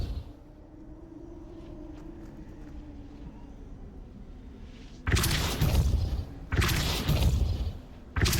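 In Hogwarts Legacy, the Depulso spell goes off as loud, broadband whooshing bursts. The first comes after a quiet stretch, and a second follows about a second later, each a forceful blast of rushing noise.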